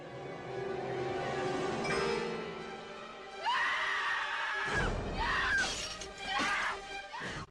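A woman's piercing scream from the horror film I Know What You Did Last Summer, as she wakes to find her hair chopped off, rising loud and shrill amid crashing, shattering movie sounds.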